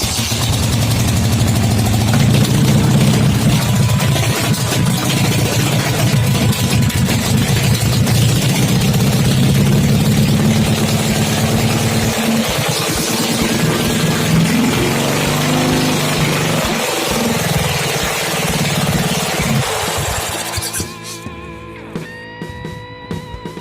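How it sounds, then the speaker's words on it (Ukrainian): A Dnepr MT motorcycle engine runs loudly and close by, its steady rough idle rumbling and thrumming for most of the stretch before dropping away near the end with a few faint knocks. "мій двигатель ожив, запустив, працює"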